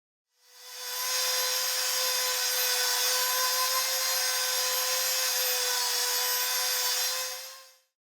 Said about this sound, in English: let's give this dust right system a test with the mouse sander